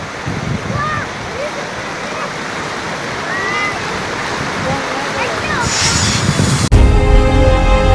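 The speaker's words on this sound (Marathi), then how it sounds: "उन्हाळ्यात नदी दुथडी भरून वाहू लागली आहे." A river in flood after unseasonal summer rain and hail near Shahada, Nandurbar, rushing with a loud, steady roar that fills the whole stretch, ending in an abrupt cut to different sound near the end.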